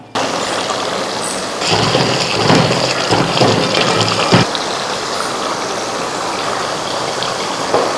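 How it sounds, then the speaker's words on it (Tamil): Water is poured into a simmering raw mango vathal kuzhambu, a tamarind curry, making a continuous close gushing and splashing that runs steadily for several seconds. "இந்த மாதிரி தண்ணி சேர்த்துக்கலாம்"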